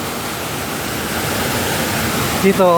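Water pours steadily into the World Trade Center memorial pool in New York, a loud, continuous rushing wash that fills the whole scene, with a voice breaking in briefly near the end.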